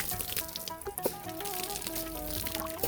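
Water poured onto plants in a home garden, a steady splashing trickle throughout at moderate distance, with a faint tonal hum in the background.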